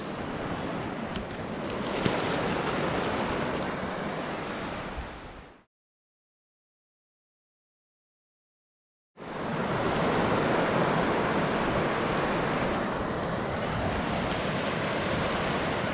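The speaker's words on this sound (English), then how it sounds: "Lovely beach here at Fairbourne." Waves breaking on the beach at Fairbourne make a steady, full surf roar mixed with wind. The sound cuts to a few seconds of silence midway, then the same loud wash resumes.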